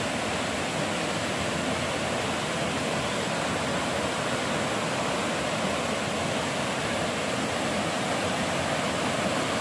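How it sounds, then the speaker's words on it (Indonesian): Fast-flowing river water rushes steadily, a loud, dense roar of churning water with no pauses and no voices. "Ini memang sangat sangat kencang sekali airnya."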